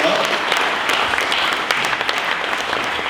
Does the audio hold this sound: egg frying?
no